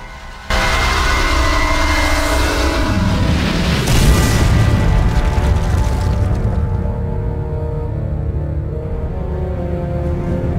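A crystal shattering in Legend of Spyro: Dawn of the Dragon, a loud sudden booming blast that swells into a long rumbling roar and slowly thins out, with no voices.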